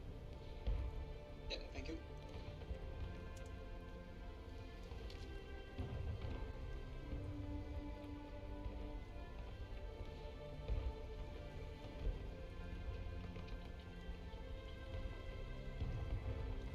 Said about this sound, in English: Now that it's raining, it's gonna make it even more fun